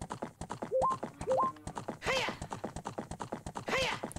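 Rapid, steady clip-clop of a horse's hooves riding in Zelda: Ocarina of Time, with two short rising tonal chimes and a couple of brief whinny-like bursts over the galloping rhythm.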